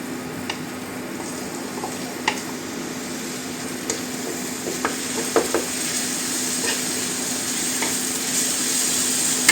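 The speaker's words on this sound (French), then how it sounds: "là j'ai mis un petit peu d'huile dans ma poêle et là je vais y mettre mon oignon émincé et mon ail" Sliced onion and garlic frying in a little oil in a frying pan, a steady moderate sizzle with a few light taps and stirring clicks scattered through, no one speaking.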